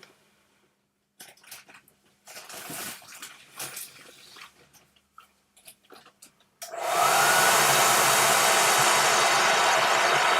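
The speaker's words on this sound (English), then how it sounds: "I'm going to quickly use the hairdryer on it." A hairdryer switches on and blows with a loud, steady whoosh that continues to the end, following a stretch of quiet handling noises.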